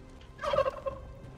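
Turkeys gobble in the survival video game Soulmask, a single brief warbling gobble burst at moderate volume with faint ambient game sound around it.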